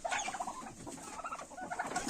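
A bronze turkey calls in a run of quick, clucking, chattering notes, close and fairly loud, repeating in bursts with short gaps between them.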